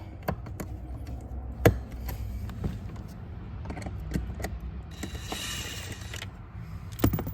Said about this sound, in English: We're just working it back and forth to break up that blue Loctite.